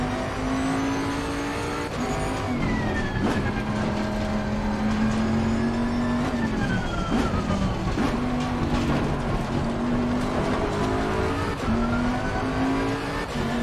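A BMW race car in a racing video game, its engine droning steadily with pitch rising and dipping through gear changes and corners, other cars audible around it, continuous and fairly loud with no talk.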